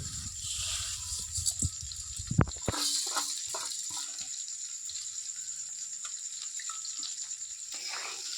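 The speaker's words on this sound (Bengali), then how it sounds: "যে ডালটা আমি ভেজে রেখেছিলাম ভাজার ডাল আর মুসুর ডাল একসঙ্গে একটু ধুয়ে নেব" Fried lentils and masoor dal being washed by hand in a bowl of water, with soft sloshing and splashing, a few sharper knocks near the start, and a faint steady hiss behind it.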